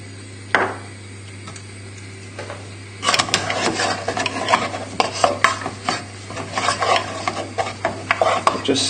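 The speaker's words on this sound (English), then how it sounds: "Now we just need to add in the butter and stir that in." Butter stirred into a sizzling pan for a steak dish: after a quiet start with one soft knock, a busy, close run of scraping, clinking stir strokes over a bright sizzle, with no talking.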